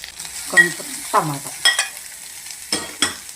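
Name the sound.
onions frying in oil with chillies and curry leaves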